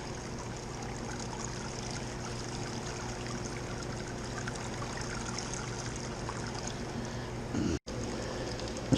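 Hot water sparging through a home-brewed beer mash during a long step-mash brew, a steady close trickle and splash of running water, continuous, with a brief dropout near the end.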